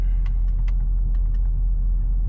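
A rebuilt Jeep SRT8 on the road, its engine giving a steady low rumble from inside the cabin, loud and continuous with a few faint clicks over it.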